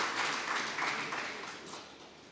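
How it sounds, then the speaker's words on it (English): An audience at a peace, security and justice symposium in Musanze, Rwanda applauds a speaker, a dense wash of clapping that holds steady and then fades gradually. "A round of applause for him."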